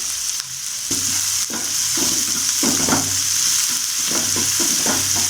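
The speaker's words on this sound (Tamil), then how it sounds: "லைட்டாக இது வதங்கி வரட்டும்." Steady frying sizzle of onions in hot oil, with repeated scraping and stirring clatters from a utensil in the pan, close and continuous.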